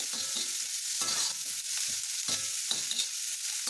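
Onions sauté in a pan for tomato chutney, giving a constant close sizzle broken by regular scraping stirs of a spoon, with no voices.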